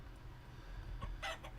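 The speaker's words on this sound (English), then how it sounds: "As long as we don't accidentally kill our rooster." A rooster crows in the farming game Vintage Story, a short, bright call rising over a steady low background hum near the end.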